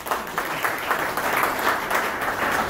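Steady audience applause fills a hall at an honoring ceremony for a sports figure, a continuous wash of many hands clapping at even loudness without pause.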